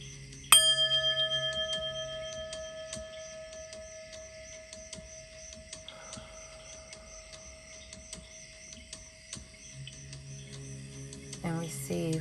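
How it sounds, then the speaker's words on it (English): A bell rung to clear energy gives one clear struck tone that rings on with long, steady sustained overtones and slowly fades, with faint background noise and a brief rustle near the end. "I'm going to ring this bell and clear your energy."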